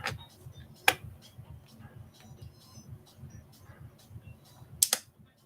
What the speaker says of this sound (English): I'm just going to put the MagSafe board down with 2 screws.